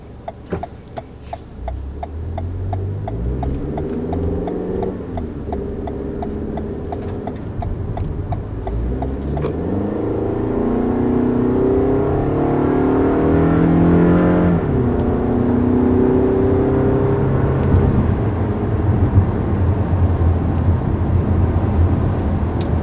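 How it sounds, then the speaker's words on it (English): A 2020 Toyota Camry with the four-cylinder engine accelerates hard on the road, revs climbing through several rising gear steps before settling into a steady, loud cruising drone inside the cabin. "that was our first takeoff here in the 2020 Camry. As you can tell, this is the 4-cylinder model"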